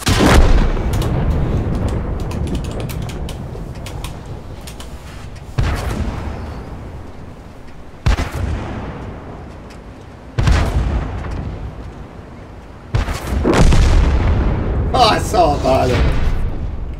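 Loud sharp gunshots during a hunt, about five reports spaced a few seconds apart, each a sudden bang followed by a decaying rumble, with a voice briefly heard near the end.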